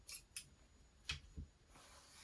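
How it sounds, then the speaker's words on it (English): Very sharp scissors snip while glassine bags are being decorated, a few quick, crisp metallic clicks and slices heard close up and quietly, with short pauses between cuts. "These are very sharp scissors."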